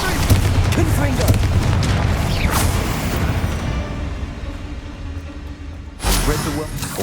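Heavy fiery blasts of the Confringo spell in Hogwarts Legacy, with booming explosions rumbling loudly through the first few seconds, then a fresh burst near the end, mixed with voices.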